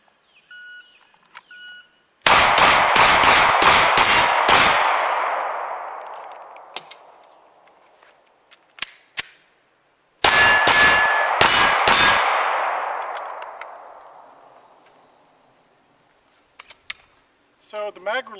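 FN 509 pistol shots ring off steel targets in two rapid strings of about six shots each, every crack followed by a bright clang, with long metallic decay and quiet gaps between strings.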